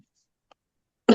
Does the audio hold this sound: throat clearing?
yes